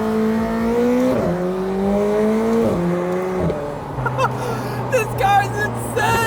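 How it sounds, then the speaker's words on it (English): Sports car at the Goodwood Festival of Speed revving up through gears with rising engine tones, then lifting off into a burst of loud pops and crackles from the exhaust, heard close from inside the car. "The pops and crackles are so addicting."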